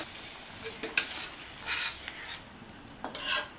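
Baby potato masala gravy is stirred in a pan with a spoon, giving soft scraping strokes and a faint sizzle, all quiet and close.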